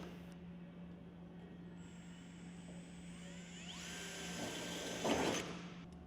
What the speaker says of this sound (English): At the ridge barge junctions, mark off and drill 40mm rivet centres.